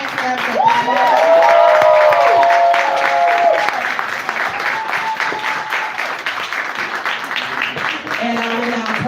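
A live community audience claps and cheers for a group of local candidates, a loud continuous wash of applause with voices calling out and some tonal whoops layered over it.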